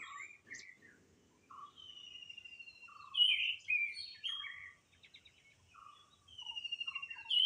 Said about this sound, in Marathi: सकाळी रानात आलो ना की वेगवेगळ्या पक्ष्यांचे ना आवाज ऐकायला मिळतात